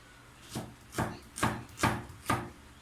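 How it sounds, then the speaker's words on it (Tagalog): A knife chops through onion in five evenly spaced strokes, each a crisp thud on the board, close up and alone. "ang sibuyas susunod. Gagayatin din po natin"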